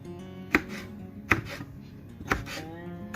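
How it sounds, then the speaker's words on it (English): Peppers chopped with a knife on a cutting board, four sharp, close knocks spaced under a second apart, with quiet background between strikes. "I'm gonna go ahead and cut up my peppers"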